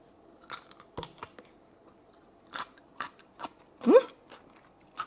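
Crunchy bites into large pickled onion marinated with a dashi-like brine, several short crisp crunches spread across a quiet room, close and distinct, with one louder bite near the end.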